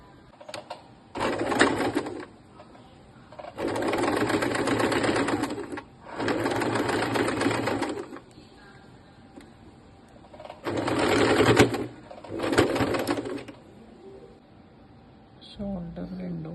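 Electric sewing machine stitching the shoulder seams of a nighty, running in several loud bursts of a few seconds each with short pauses between them, close by. No one speaks during it.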